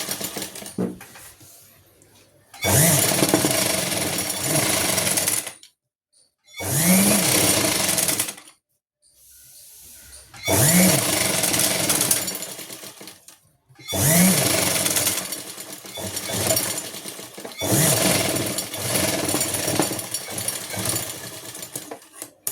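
An electric sewing machine stitches a folded half-inch hem over a buckram strip on a palazzo pant waistband, running in four long loud bursts with short pauses between them.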